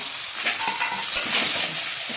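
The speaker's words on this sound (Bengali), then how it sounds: "একবার নাড়ি করে দিচ্ছি" Cauliflower and potato curry stirred in a pan, a close, busy scraping and sizzling sound with quick strokes across the pan, no one speaking.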